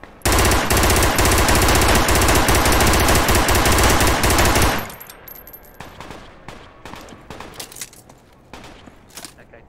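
Video game gunfire: loud, sustained automatic bursts for several seconds, then quieter scattered shots and distant pops as the firing dies down.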